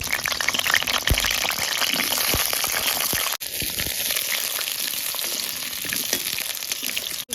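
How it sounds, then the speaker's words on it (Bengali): Potatoes frying in plenty of hot oil in a wok-style kadai, a steady dense sizzle running nearly unbroken and close, with a brief dip midway and occasional soft crackles. "আলুগুলো ভাজা করে নিচ্ছি।"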